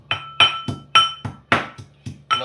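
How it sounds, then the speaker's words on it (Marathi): Garlic is pounded with about seven sharp, ringing strikes in a quick, slightly uneven rhythm, each close and loud with a short metallic clink that fades fast; no voices. "लसूण कुटून घेतो"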